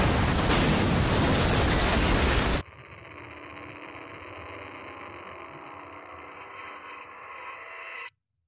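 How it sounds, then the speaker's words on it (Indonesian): A huge explosion erupts in a Korean drama scene, opening with a loud, dense roaring blast that suddenly cuts to a quieter, ringing aftermath with a faint high tone before it falls silent. "tiba-tiba ledakan besar pun terjadi"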